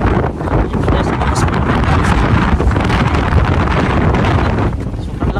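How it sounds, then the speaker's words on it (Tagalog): Very strong wind roars and buffets loudly against the microphone, a constant rumbling gust with no break. "Grabe sobrang lakas ng hangin."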